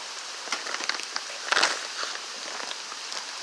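Rain falling outdoors among trees, a soft patter of scattered drops with irregular taps and a brief louder splash partway through, faint and unbroken by talk.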